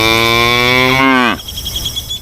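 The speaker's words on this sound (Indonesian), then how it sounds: "yang ini sapi" A cow gives one loud, close, sustained moo that bends downward and cuts off, followed by a brief quiet tail.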